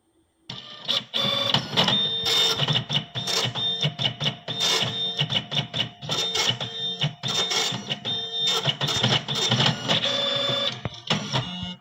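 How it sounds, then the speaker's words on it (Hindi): A PLQ-20 passbook printer in online mode prints a page: steady mechanical rattling and clattering for about eleven seconds, with a thin high whine recurring in short bursts, close and loud. "पी एल क्यू ट्वेंटी में ऑनलाइन मोड में देखिए परफेक्ट प्रिंट आया है"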